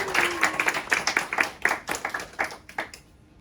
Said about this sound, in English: Let's give a big round of applause to Kendressa, Anna, and Bria.